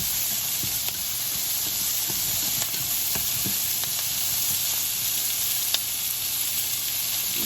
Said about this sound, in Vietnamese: Bạn xào mà bạn thấy cái ớt, cái hành đồ nó hơi cháy cháy chút là để nó xuống được rồi.